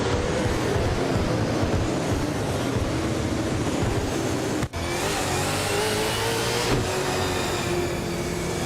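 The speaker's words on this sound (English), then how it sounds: "Maya is driving a 2013 Nissan Altima" A 2013 Nissan Altima racing in a video game gives a continuous dense engine and road roar, steady and loud throughout, with one brief dropout midway.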